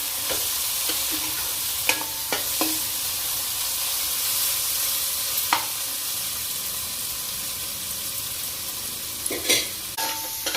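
Onion and tomato frying in a pan for mutton curry, an even hissing sizzle with occasional stirring knocks and scrapes spread across ten seconds, close and unvoiced.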